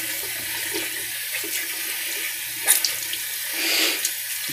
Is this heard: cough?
no